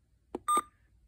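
Two short electronic alarm beeps from a running snail MD319 emergency radio being set up, close and fairly faint, the second tone longer and steadier, followed by quiet.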